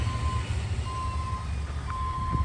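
A Ford Maverick truck sounds steady reversing beeps over a low engine rumble, the beeping repeating evenly at moderate distance.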